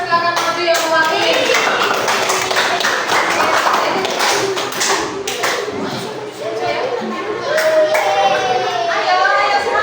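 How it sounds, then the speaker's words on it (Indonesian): Children in a primary school classroom clap together in a dense, steady burst of hand claps lasting throughout, with children's voices and an adult talking over the clapping. "Cici, kasih tepuk tangan, silakan maju yang mewakili."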